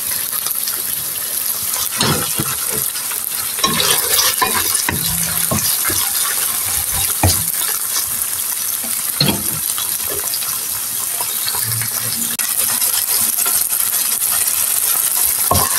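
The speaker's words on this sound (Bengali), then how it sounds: "আদা ভাজা হয়ে গেছে" Ginger frying with onion in a pan as aloo-fulkopi bhaja is cooked, a steady, loud sizzle running throughout with scattered clinks and scraping stirs on top, no voices.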